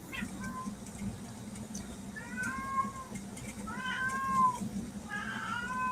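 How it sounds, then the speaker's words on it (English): An indoor cat meows repeatedly, several drawn-out, rising and falling calls spaced a second or so apart over a low background hum, moderately close. "For a minute there, I thought I was hearing another cat outside the window."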